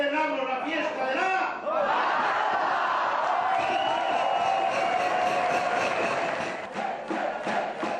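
A big crowd fills a huge 700-seat restaurant after a festival pig-catching game, cheering and shouting loudly with a dense roar of voices and clapping that holds steady throughout.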